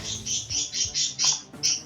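Cecil, a pet bird, lets out a rapid series of shrill, piercing screeches, about seven bursts in quick succession, loud and close against a faint background hum.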